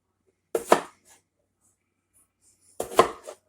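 Two separate knife chops through potatoes cut into skin-on wedges, each a quick pair of sharp, close knocks on a board with a short quiet gap between them, no talking.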